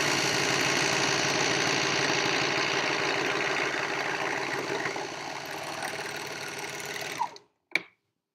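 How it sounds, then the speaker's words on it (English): Sewing machine stitching fabric, a fast steady mechanical whir running continuously for several seconds, close and even, then stopping abruptly with a short clunk afterward. "If you don't have a serger, you can just use your sewing machine."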